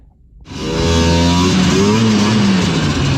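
A Liquifire RC car engine bursts into life and revs loudly, its pitch climbing and wavering in a steady, close, buzzing roar.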